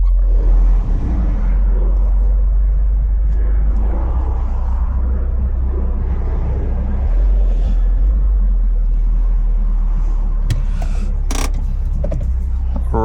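A Mitsubishi Lancer Evolution 9 with a six-speed manual drives along, its engine a steady, loud low rumble that runs throughout, with a few brief mechanical clicks and knocks near the end.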